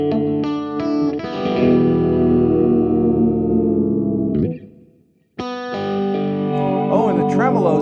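A Fiona SSS Turbo strat-style electric guitar rings out loudly with sustained, shimmering chords as it is switched through different pickup tones. A brief near-silent gap comes before a fresh strummed chord, and no one speaks.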